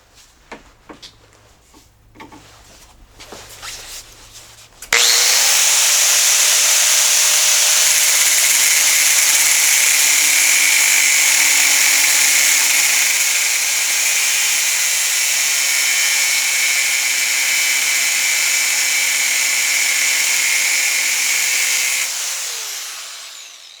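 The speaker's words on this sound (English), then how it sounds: "so that'll help me guide where I need to use this grinder with the cutoff wheel" A grinder fitted with a cutoff wheel cuts steel for dado blade carriers in a workshop, starting abruptly after some quiet handling noises and whining loudly and steadily for about seventeen seconds before spinning down.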